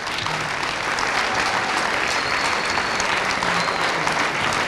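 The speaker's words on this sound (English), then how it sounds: "I'd like to give them a huge round of applause" A large audience at a middle school event applauds in a steady, dense wash of clapping that holds at full strength, fairly close, throughout.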